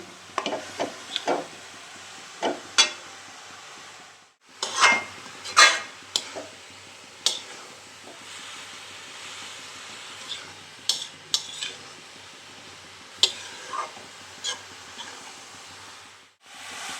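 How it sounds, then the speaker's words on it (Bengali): Grated carrots for carrot halwa fry in a pan under a soft sizzle, punctuated by repeated sharp scrapes and knocks of a spoon stirring against the pan, close with pauses between bursts and no talking. "এইভাবে গাজরটা খানিকক্ষণ ভেজে নেব, একটা খুশবু বেরোবে।"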